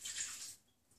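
Bottled water poured into an Instant Pot, a brief close splashing gush that fades after about half a second.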